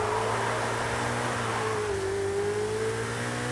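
Ferrari F8 engine in Forza Horizon 5, a steady mid-pitched engine drone holding at moderate revs with a slight pitch dip and rise. It sounds fairly distant and continuous, with no talk.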